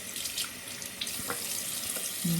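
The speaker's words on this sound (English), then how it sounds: "washing some of that off my hands" Soap is rinsed off hands under a running tap, giving a steady close splash of water into a sink with small shifts as the hands move through the stream. No one speaks.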